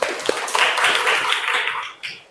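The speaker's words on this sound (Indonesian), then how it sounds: "tepuk tangan dulu buat Rima." A short burst of classroom clapping swells for about a second and a half, then quickly fades out.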